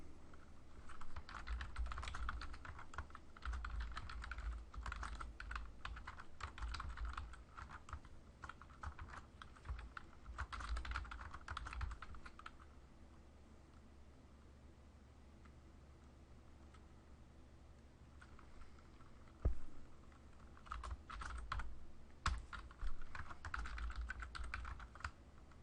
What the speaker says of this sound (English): I'm not going to finish typing all the different data that's in the table